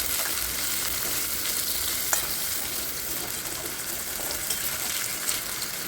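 Potatoes and onions frying together in a pan, a continuous soft sizzle with faint scraping from occasional stirring, steady and close, no speech.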